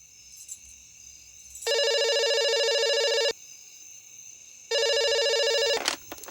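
A telephone rings in two long electronic bursts separated by a pause, loud and close in an otherwise quiet indoor room.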